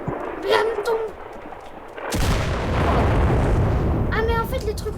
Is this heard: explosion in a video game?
yes